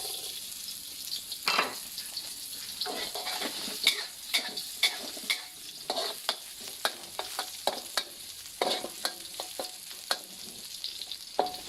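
Garlic stir-fried over high heat in a pan for a Thai dish of loofah with duck egg, a steady loud sizzle broken by regular clacks of the spatula stirring, with no talk.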